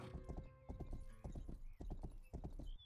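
Horse hooves clip-clop quickly and steadily in a medieval-style action video game, loud and close, with a brief whinny and a few game sounds layered over the rhythmic hoofbeats.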